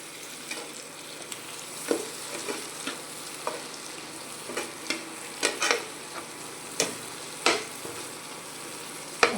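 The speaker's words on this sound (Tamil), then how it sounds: "இப்போ தக்காளி நல்லா வதங்கணும்." Large tomatoes cook down with onions in a pan for a kalan gravy, a soft steady sizzle broken by sharp spoon scrapes and taps every second or so, no voices.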